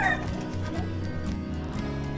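A pair of healthy, lively pigeons being caught and held in the hand, with soft cooing and fluttering scuffles close by over a low continuous background, no talk.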